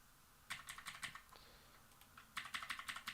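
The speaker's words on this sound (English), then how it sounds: "I should get a less annoying keyboard for this exercise" Someone types on a noisy, clacky computer keyboard. Two short bursts of quick, crisp keystrokes of about six to eight clicks each are separated by a pause. They sound close but quiet, with no talking.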